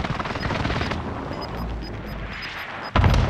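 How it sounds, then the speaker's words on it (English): Cluster airstrike explosions in Warzone: a dense, rumbling barrage of blasts rolls on for several seconds, then one sharp, loud impact lands near the end. "Enemy cluster strike, watch your heads."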